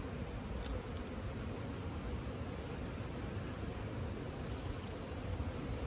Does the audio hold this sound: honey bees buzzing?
yes